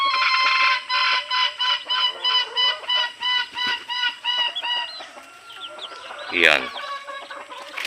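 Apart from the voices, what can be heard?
red junglefowl (labuyo) clucking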